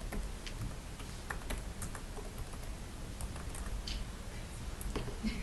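A password being typed on a computer keyboard: quick, irregular key clicks and taps continue at close range, fairly quiet, with no talking over them.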